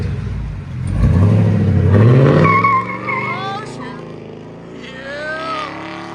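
A 2007 Chevy Silverado with a 6.0L V8 and a Dynomax Race Bullet exhaust revs up close by with a loud, deep rumble that climbs in pitch, then settles back to a lower, uneven idle.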